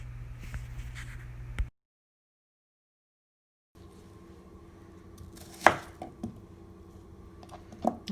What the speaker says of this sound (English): I don't have my food processor with me, so I'm just going to have to chop it.